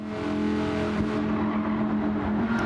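A car accelerates in Gran Turismo 7 on the Deep Forest circuit, a loud steady engine drone climbing in pitch with a faint tire note, no voice.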